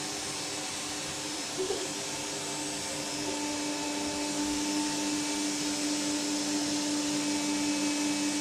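An electric vacuum cleaner running steadily while cleaning a house, a continuous close, loud motor whine and airflow roar with no talking.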